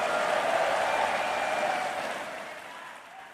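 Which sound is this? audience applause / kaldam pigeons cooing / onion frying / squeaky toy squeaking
audience applause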